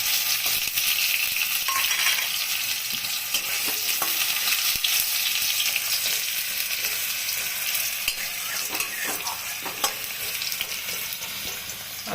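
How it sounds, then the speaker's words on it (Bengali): Potatoes fry in oil with a continuous close-up sizzle, while a spoon repeatedly scrapes and taps against the pan in irregular strokes, and no one talks. "আলুটা ভাজা হোক, তারপরে দিব"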